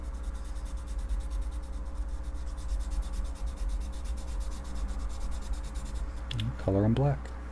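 A marker is drawn steadily across a piece of a clubhouse model, giving a continuous close-up scratchy rubbing. The strokes are fairly loud and run nearly the whole time, and brief talk comes in at the end.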